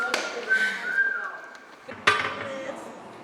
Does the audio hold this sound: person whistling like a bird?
yes